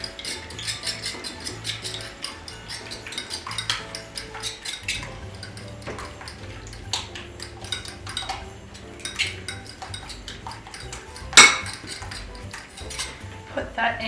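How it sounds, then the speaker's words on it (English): A whisk or fork beats two eggs to a froth in a bowl for a plum pudding, a steady run of quick, light clinks and taps against the bowl, close and continuous. "And then beat this to a nice froth."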